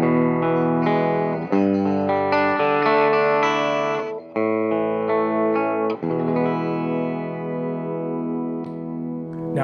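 Jackson Soloist SL2FM electric guitar with the active pickups engaged, playing a distorted, effects-laden run of fast lead notes and sustained tones with chorus and echo, loud and upfront.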